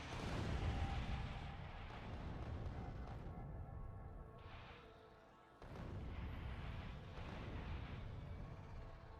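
Artillery in Factorio fires heavy booming shots with rumbling low-end tails, loud and continuous for several seconds, briefly dropping away before another sustained barrage.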